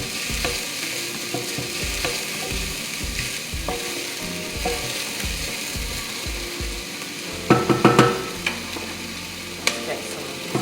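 Red curry paste and onions sizzle in a pan for a Thai noodle soup while a utensil scrapes and stirs in a regular rhythm, with a few louder clanks near the end.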